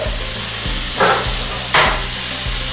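Diced peaches with onions cooking in a pan, a steady sizzling hiss throughout with two brief louder surges of spitting as liquid hits the hot surface, close and alone without talk.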